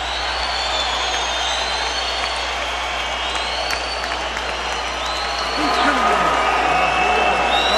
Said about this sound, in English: The crowd is ecstatic, as well they should be.